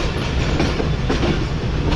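A Subak Raftar railcar train switches tracks on its approach to the platform at Wazirabad Junction, with a loud, steady rumble of wheels and rhythmic clacking over the points, near and continuous.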